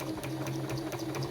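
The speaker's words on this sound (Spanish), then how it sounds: "Una máquina de coser hace esto." A sewing machine stitches fabric with the needle driving the cloth forward on its own feed, a steady, close, rhythmic mechanical chatter with a low motor hum underneath and no talking.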